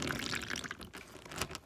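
Water poured into a plastic bag during a pre-K lesson, a close, splashy, gurgling flow with a brief dip and a renewed burst, heard alone with no talking.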